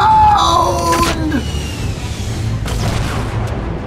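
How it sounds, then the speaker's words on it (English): RPG rocket explosions in the Fortnite video game, a loud boom early followed by whooshing and further blasts fading into rumbling background noise, close and forceful. "RPGs inbound!"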